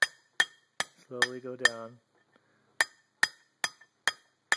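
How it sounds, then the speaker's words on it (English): A soft hammer taps a bearing into a 12-inch magnet motor part in sharp, evenly spaced metallic clinks, about a dozen in all, close and crisp. Someone speaks briefly between two groups of taps. "you can use a soft hammer"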